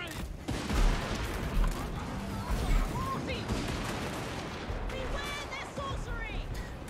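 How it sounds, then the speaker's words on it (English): Rocket artillery bombardment in Total War Warhammer 3, a dense rolling barrage of explosions and crashing impacts, loud and continuous, with someone talking over it. "A brutal bombardment."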